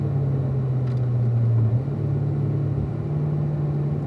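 A car braking and downshifting to third gear through turn 4 of a track, its engine a steady close low rumble with a slight pitch drop midway, no voices.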